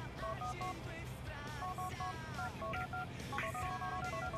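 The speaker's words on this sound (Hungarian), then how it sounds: "Na, hívjuk is Romát, nem baj" Phone dialing tones from Grand Theft Auto IV play in a steady run of short, beeping keypad pulses over a low background hum, loud and continuous for a few seconds with no talk.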